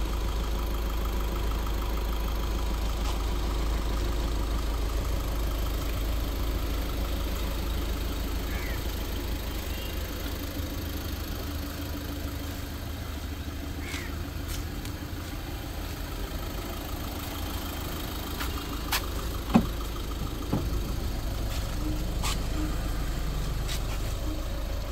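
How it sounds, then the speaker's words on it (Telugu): A 2016 Volkswagen Polo Highline Plus diesel car idling, a faint steady low engine hum running continuously with a couple of brief clicks near the end. "ఇంజన్ స్టార్టింగ్లో ఉంది. ఒకసారి నాయిస్ వినండి మీకు అర్థమైద్ది."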